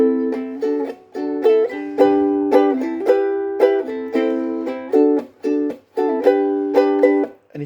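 Ukulele strumming the rhythm pattern for a song, bright chords hit in a steady, repeating strum with short gaps between groups, played close and clear with no voice over it.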